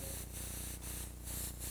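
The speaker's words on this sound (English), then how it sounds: "So you're going to go ahead and spray the outsides of the fingers there." An airbrush sprays paint in a steady, close hiss that rises and falls in soft pulses as the strokes come and go.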